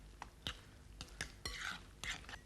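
Curd being stirred into unpolished rice for curd rice, with soft sticky squelches and light spoon taps against the bowl in an irregular rhythm, close and quiet.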